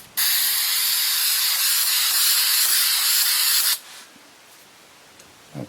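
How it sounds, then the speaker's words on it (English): Adhesive spray hisses steadily from an aerosol can as it coats the back side of a game board, one loud continuous burst of about three and a half seconds, then it cuts off into near silence. "use the adhesive spray. So we turn this over on the back side and just gently give this backs a coating"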